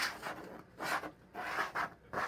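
A putty knife swipes designs into soft putty in several broad rasping strokes, each a short scraping rub close by with brief pauses between, and no voices.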